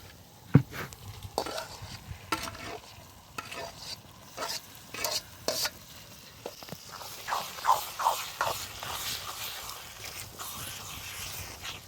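Mashed roasted brinjal is stirred into a garlic tempering in a pan, giving irregular scraping and scooping strokes with a soft sizzle underneath, close by and without talk.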